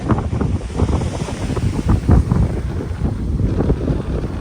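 Sea breeze and waves on a Langkawi island beach, with steady broadband surf wash and heavy wind buffeting the microphone, loud and continuous with no voices.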